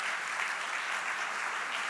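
An audience claps steadily at a main stage event, a dense, even wash of applause with no talk over it.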